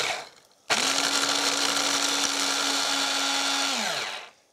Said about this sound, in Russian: Ставлю блендер